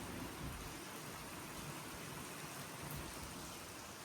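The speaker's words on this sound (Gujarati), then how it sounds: "જોરદાર નો વરસાદ ચાલુ છે રાજકોટમાં" Steady, dense hiss of heavy rain pouring down in Rajkot, constant and fairly loud with no pauses.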